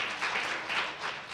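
Audience applause at a candidates' forum, a short burst of steady crowd clapping, moderately loud and alone.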